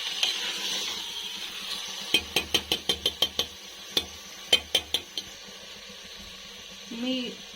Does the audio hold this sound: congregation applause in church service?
no